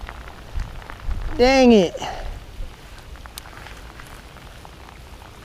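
Rain falling on a creek while fishing, a soft steady patter and hiss throughout, briefly interrupted by a man's short spoken exclamation and a loud tonal squeal near the start.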